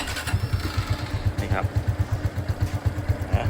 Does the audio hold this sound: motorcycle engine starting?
yes